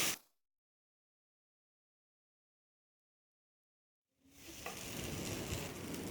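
Curry leaves sauté in a pan: after a long stretch of near silence, a soft, steady sizzle starts up for the last couple of seconds.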